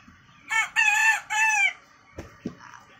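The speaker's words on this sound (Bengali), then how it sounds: "আল্লাহ রে, কি করছে মুরগিটার অবস্থা!" A hen cackles in a loud drawn-out call close by, followed by a couple of short clucks against a quiet farmyard background.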